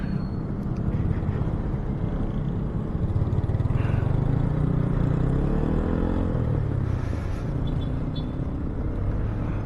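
A vehicle cruises along a national highway, a steady low road rumble and engine drone filling the whole stretch with a faint shift in pitch midway, no voices over it.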